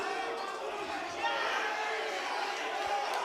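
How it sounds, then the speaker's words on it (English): At a combat-sports fight night in the Cedar Court Hotel, an excited crowd cheers and shouts steadily throughout, heard under a commentator's voice talking over the noise. "The crowd here in the Cedar Court Hotel going nuts for this fight now"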